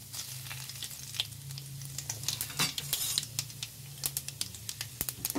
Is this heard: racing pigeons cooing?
no